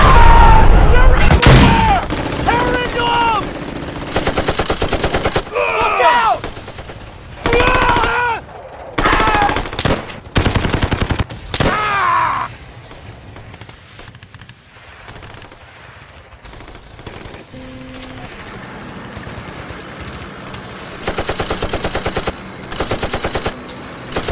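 Machine-gun fire for a plastic toy army men stop-motion battle, loud bursts of rapid shots repeated in volleys with booms, broken by shouted voices and quieter gaps.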